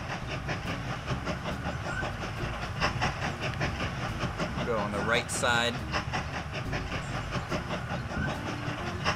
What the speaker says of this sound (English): there is a freight train carrying lumber